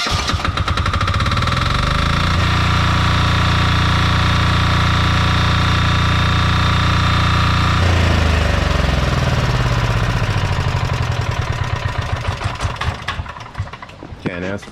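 A DuroStar DS7200 generator's 186F diesel engine runs with a loud, steady clattering drone, holding a constant pitch before the tone shifts midway and the engine winds down unevenly near the end.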